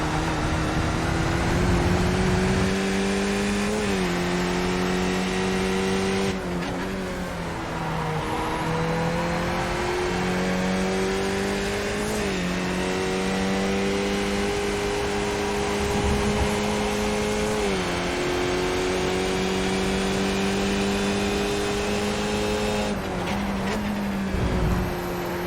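A race car engine at Road America drones loudly and steadily from on board, its pitch climbing through each gear and dropping sharply at every shift, with no talk.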